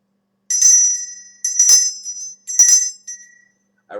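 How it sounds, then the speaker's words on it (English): A small handheld bell rung three times before an Ogham divination reading, each bright metallic ring clear and close, decaying briefly in a quiet room. "I ring the bell 3 times to get myself in that mindset to get ready to do the divination"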